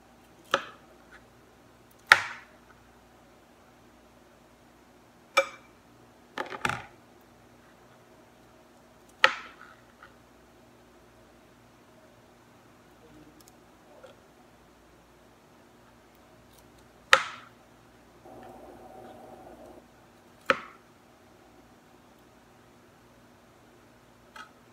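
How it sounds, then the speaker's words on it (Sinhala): A knife chops peeled dragon fruit into pieces on a board, with about eight sharp, separate cuts spaced unevenly and a short scraping sound near the end, over a quiet steady background hum. "ඊළඟට මේ වගේ කපපු ඩ්‍රැගන් ෆෘට් මෙන්න මේ විදිහට කෑලි කපනවා."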